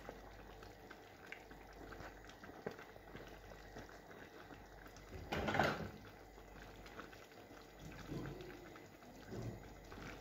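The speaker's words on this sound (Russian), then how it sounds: "Плов начал кипеть" A pot of pilaf with vegetables and chicken breast boils steadily with a soft bubbling hiss, broken by one louder burst of sputtering and a few smaller splutters.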